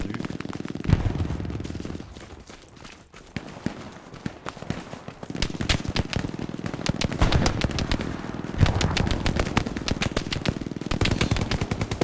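Gunfire in the World War II shooter Hell Let Loose: rapid machine-gun bursts and scattered shots crackle almost continuously, some near and sharp, others more distant.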